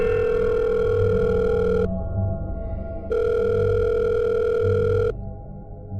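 A telephone rings twice in a quiet room, each ring a steady electronic tone lasting about two seconds, with a brief pause between and a low rumbling background throughout.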